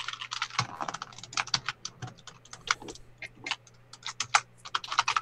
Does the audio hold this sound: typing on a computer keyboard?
yes